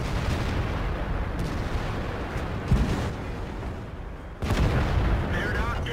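Artillery fire in World of Tanks during a Super Pershing match: booming impacts over a continuous heavy battle rumble, with two stronger blasts standing out.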